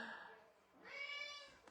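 A house cat meows indoors, giving one short, fairly quiet meow that rises and falls, with soft room noise around it.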